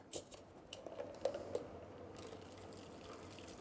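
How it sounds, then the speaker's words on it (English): Cocktail strained into a glass of ice, a few light clicks and taps from the strainer followed by a steady soft liquid pour, close and quiet. "you're gonna strain that in there"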